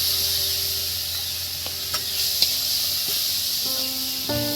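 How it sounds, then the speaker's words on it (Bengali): Crushed garlic sizzles in a little hot oil, a steady close hiss spread high across the range with faint clinks of a utensil against the pan. "এবার এর মধ্যে বন্ধুরা যে ছেঁচে রাখা যে রসুনটা দিয়ে দিচ্ছি"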